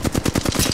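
A quick, evenly spaced burst of automatic gunfire in Apex Legends, about eight rapid shots fired close and loud with no pause.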